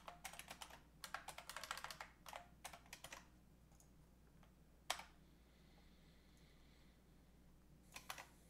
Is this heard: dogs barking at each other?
no